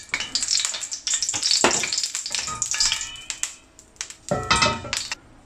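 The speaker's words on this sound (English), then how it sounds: "Now I'm going to add half cup cooking oil." Half a cup of cooking oil hits a hot pot and sizzles loudly in crackling bursts that swell and fade, with clinks and stirring noises between them, no talking.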